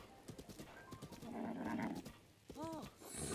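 Horse in The Legend of Zelda: Breath of the Wild in Master Mode, hooves clip-clopping in a quick rhythm followed by a snorting whinny, with a voice talking over it.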